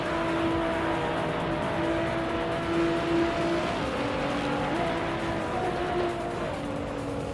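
Race car engines roar steadily in a racing video game, with a Renault Sport RS01 GT3 among the field, the loud sustained drone shifting pitch as cars accelerate and hold speed, with no talking.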